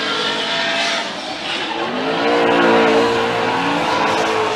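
Drift cars at a Formula Drift round in Atlanta scream loudly up a hill with a sustained rising engine whine and squealing, skidding tires, steady and close throughout.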